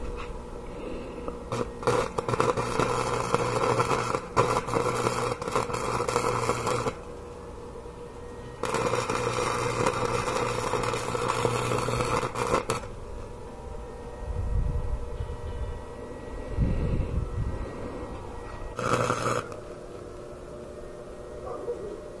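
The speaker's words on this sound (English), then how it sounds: "Starting to weld." A MIG welder laying a weld on a Damascus blade billet: loud, steady crackling buzz in long bursts of several seconds, separated by quieter pauses with low background rumble and a short final burst near the end.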